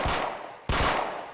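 Two sharp gunshots about half a second apart in the survival video game Unturned, each a loud blast with a short fading tail, no voices.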